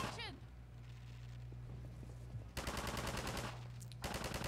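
Rapid bursts of automatic gunfire in the Half-Life 2 chapter Anticitizen One, loud and repeated from about two and a half seconds in, with a short pause before a final burst over steady background game noise.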